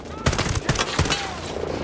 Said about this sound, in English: Stop shooting at my friends.